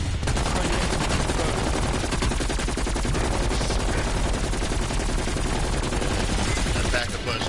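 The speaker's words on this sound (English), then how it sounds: "Sentry turret locked and loaded" A sentry turret firing nonstop in a zombies shooter game, a dense, loud rapid stream of gunfire that fills the whole stretch before briefly easing at the end, with players' voices mixed in.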